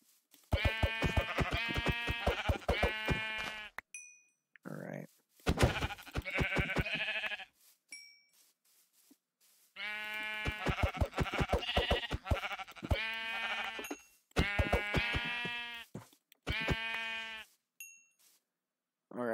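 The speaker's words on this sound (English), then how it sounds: "Let's kill these sheep." Sheep in the Minecraft video game bleat over and over in loud, close bursts that come in several clusters, separated by short gaps of silence.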